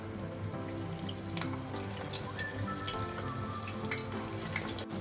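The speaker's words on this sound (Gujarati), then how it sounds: "તો આપણે એને તેલમાં થોડા ફ્રાય કરી લેશું." Rice vadas made from leftover rice frying in hot oil over medium heat, giving a steady, close sizzle and crackle throughout with no talking.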